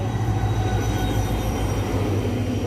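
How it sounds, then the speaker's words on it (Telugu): A train arrives at a railway station with a loud, steady, deep rumble of wheels and wagons rolling close by, and a faint metallic ring above it. "ట్రైన్ వచ్చేసింది, పోదమ్మా."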